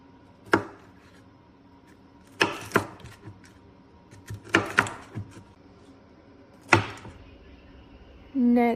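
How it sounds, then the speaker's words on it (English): Knife chopping a whole green pepper on a cutting board: four separate clusters of sharp chops, some single and some in quick bursts, close and fairly loud, with quiet gaps between. "Then start cutting up your green pepper."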